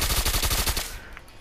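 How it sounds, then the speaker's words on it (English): Rapid burst from an automatic shotgun built on a submachine gun receiver in Fallout 4, about a dozen heavy booming shots in quick succession, close and loud, ending abruptly with a faint click and tail. "it's going to be an automatic shotgun with a submachine gun receiver"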